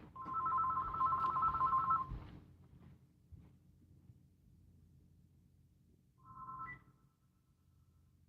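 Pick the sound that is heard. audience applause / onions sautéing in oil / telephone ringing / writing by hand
telephone ringing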